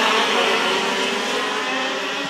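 125cc Rotax Max junior karts race past, their engines giving a loud, sustained high-pitched two-stroke whine that drops slightly in pitch as they shift down gears.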